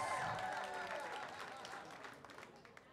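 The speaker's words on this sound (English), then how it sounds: "Married people, clap your hands." Audience at a stand-up comedy club show in Jacksonville, Florida, claps and cheers, a faint crowd wash of applause that fades gradually, with a voice trailing off at the start.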